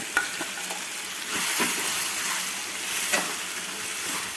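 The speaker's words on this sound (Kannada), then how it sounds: "ಕೊಬ್ಬರಿ ಮಸಾಲೆ ಏನು ರುಬ್ಕೊಂಡಿರ್ತೀವಲ್ಲ ಆ ಮಸಾಲೆನ ಹಾಕ್ಕೊಂಡು ಹಸಿ ವಾಸನೆ ಹೋಗೋವರೆಗೆ ಅದು ಚೆನ್ನಾಗಿ ಫ್ರೈ ಮಾಡ್ತೀವಿ" Ground coconut masala frying in oil makes a dense, close hiss and sizzle, with occasional spoon scrapes and a couple of louder stirring swells, no one talking.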